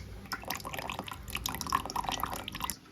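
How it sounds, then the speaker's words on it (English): Apple cider vinegar poured into a bowl for homemade mayonnaise, a faint, close trickle with small liquid drips lasting a few seconds. "I'll be adding in a tablespoon of apple cider vinegar."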